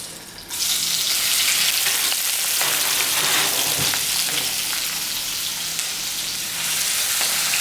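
Tomato pieces hit hot oil for tamarind rasam and burst into a loud, sustained sizzle after a brief quiet start, the crackle staying dense and even with a few faint stirring taps.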